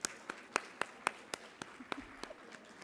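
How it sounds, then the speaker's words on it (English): Scattered audience applause for conference sponsors at a healthcare conference, a sparse run of distinct hand claps that thins out quickly. "Can we give all of those sponsors a big round of applause"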